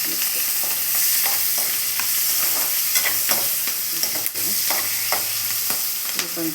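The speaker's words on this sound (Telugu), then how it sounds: "ఆనియన్స్, మంచిగా ఫ్రై అవుతుంది" Mustard seeds, cumin, onions and green chillies fry in a pan, a loud close sizzle with repeated scraping and stirring clinks throughout.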